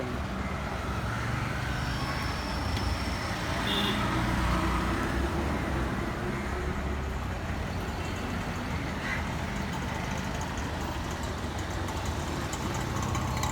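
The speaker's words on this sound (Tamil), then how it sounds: "பஸ்ஸில் ஃபுல் டிராஃபிக் தான்" Heavy road traffic heard from inside a bus: a steady, dense rumble of engines and passing vehicles that stays fairly loud throughout, with no clear voices.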